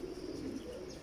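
Old Mistri-bloodline pigeons coo softly and low from nearby in a short, faint burst without speech.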